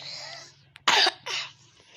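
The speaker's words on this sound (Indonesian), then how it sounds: "batuk." A person coughs twice in quick succession, close and fairly loud, after a brief throat sound, with quiet room noise around it.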